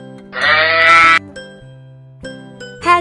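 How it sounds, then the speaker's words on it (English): A sheep bleats once in a long, wavering cry, then a shorter bleat follows after a pause, close and clear with no talk. "Sheep."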